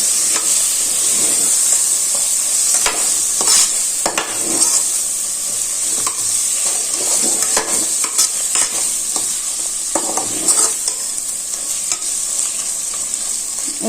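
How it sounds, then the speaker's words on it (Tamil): Tomatoes and green chillies sauté in biryani masala with ginger-garlic paste for chicken biryani, a steady close frying sizzle broken by repeated stirring scrapes across the pan, with no voice over it. "கொஞ்சம் தக்காளி வதங்கட்டும் இப்போ நல்லா வதங்கிருச்சு தக்காளி"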